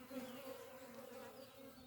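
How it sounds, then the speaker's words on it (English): Scout honeybees buzzing around a forest garden ahead of a swarm, a steady tonal hum from several insects close by, soft and continuous without pause. "it's not actually a swarm, just a million scout bees"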